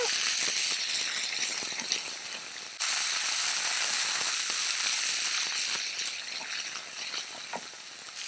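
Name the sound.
sautéing drumstick leaves in a pan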